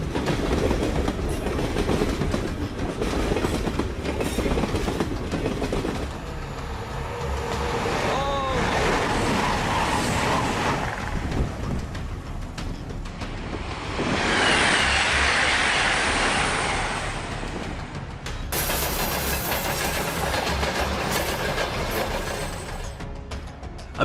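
A Yamagata Shinkansen bullet train runs along its line in Japan, rumbling and clattering continuously at close range, with rushing surges partway through and a voice talking over it.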